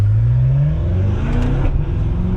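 A BMW M6 fitted with an aggressive aftermarket exhaust revs hard, its loud, close engine note climbing in pitch and then easing off with a brief crackle.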